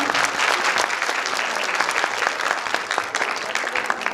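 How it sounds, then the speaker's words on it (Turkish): Audience at a kindergarten year-end show claps in a steady, dense round of applause that holds at a loud, even level throughout. "Kocaman bir alkışlar istiyorum sizden"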